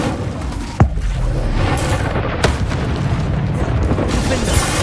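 Incendio fire spell cast in Hogwarts Legacy, heard as a deep booming burst with sharp cracks over a loud, continuous rumbling game soundscape.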